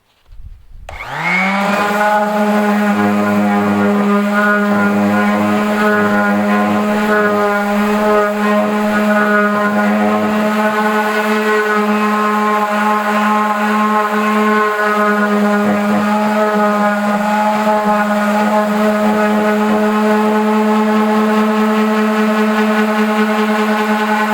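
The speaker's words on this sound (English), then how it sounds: "I'm using 100 grit sandpaper on just a palm sander" A palm sander fitted with 100 grit sandpaper strips old finish from furniture, starting up and then holding a loud, steady, whining motor drone for over twenty seconds, close and alone.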